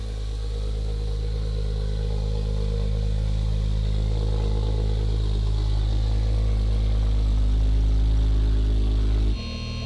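A rebuilt Porsche 911 Turbo engine idling and running steadily, a close continuous low rumble with mechanical clatter that gradually swells slightly before cutting off near the end.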